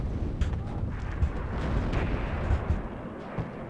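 Muffled gunfire and impact thuds against tanks in the real-time strategy wargame Warno, a steady rumbling barrage of distant low booms with scattered sharper hits over about four seconds.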